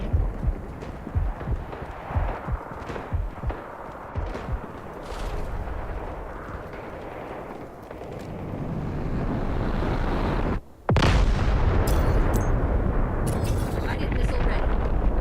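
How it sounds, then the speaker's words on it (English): Guided missile strike in the shooter game Delta Force: a heavy, rumbling barrage of blasts and roaring wind-like surf noise that swells and stays loud, with a brief dropout near the end and scattered in-game voice callouts. "Guided missiles launched."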